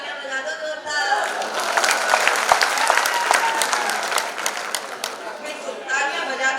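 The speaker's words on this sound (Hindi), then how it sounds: "एक बार तालियां बजा दो जोरदार" An audience at a comic Hindi poetry gathering breaks into loud, sustained applause, dense clapping mixed with crowd chatter that swells after a brief lull and carries on for several seconds.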